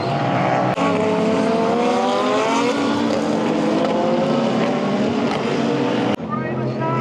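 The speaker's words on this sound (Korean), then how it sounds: "갑자기 차가 멈췄다가 갑자기 또 가속하니까 바로 옆에서 봐서 영상으로 볼 때랑은 느낌이 정말 많이 다른 것 같습니다." Super GT race cars at Fuji Speedway, engines loud and close as they brake and accelerate hard, a continuous roar with rising engine pitch sweeps and sharp shifts.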